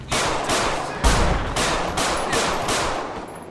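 Several gunshots fired on foot during a police chase in GTA 5 with the LSPDFR police mod, loud and rapid in an uneven burst of about six sharp reports over a few seconds, with no talk.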